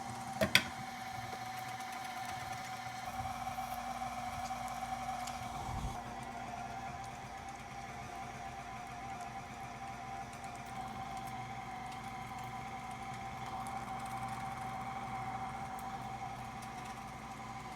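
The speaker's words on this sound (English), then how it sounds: "We are done grinding the meat." An electric meat grinder attachment runs steadily, a continuous motor whine with a constant hum lasting throughout, preceded by a sharp knock at the start; no talking.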